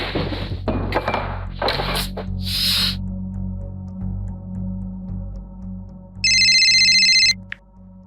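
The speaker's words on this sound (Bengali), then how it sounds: "হ্যাঁ, রিয়াকে একটা ফোন করি।" A telephone rings once during an outgoing call, a bright electronic ring lasting about a second, heard after rustling and handling noises in a quiet room.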